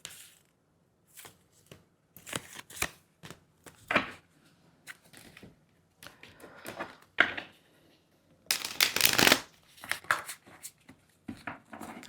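Oracle cards shuffled for a tarot reading, with soft irregular riffling and tapping in scattered bursts of varying loudness, close and fairly quiet, one longer, louder flurry near the end and no voices.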